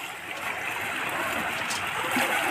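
Pork fat melts into lard in a frying pan, giving a steady dense sizzling crackle up close, with a faint voice in the background.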